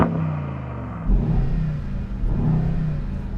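Sports car engine revving at a drag race, a Porsche 911 Turbo S-based 900 Rocket R or a Mercedes GLS 63 or G63 Brabus-style 900 Superblack, Euro 6 compliant, growling in a loud steady rumble that swells twice without pops or bangs.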